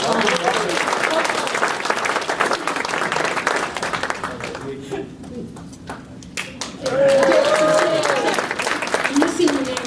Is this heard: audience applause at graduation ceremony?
yes